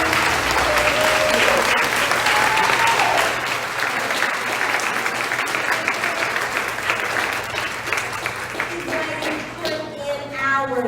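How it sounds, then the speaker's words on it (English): Sustained, loud applause from a crowd giving a standing ovation to Miss Juneteenth pageant contestants at a community Juneteenth celebration in Topeka, with dense continuous clapping throughout and a few voices calling out near the end. "Can we give them a standing ovation for all the work that they put in, all their talent?"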